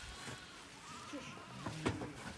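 Lambs bleat several times on a village journey with children, short wavering cries rising toward the end over a quiet outdoor background, with faint voices nearby.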